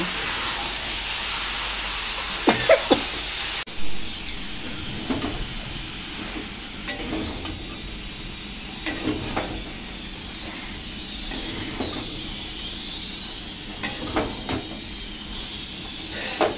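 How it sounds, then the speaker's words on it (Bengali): Soybeans and chicken stir-frying in a pan give off a steady sizzling hiss throughout, broken by scattered scraping and clanking from stirring. "এখন মাংস আর সয়াবিনগুলো একটু ভালো করে কষিয়ে নেব।"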